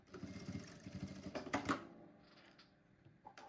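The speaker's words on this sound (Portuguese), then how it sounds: "Aqui, vamos passar uma costurinha que vai facilitar." Sewing machine stitching a handbag with snap hooks and rings, running in a quick rhythmic burst of needle strokes for about two seconds, then stopping and leaving a few faint handling clicks.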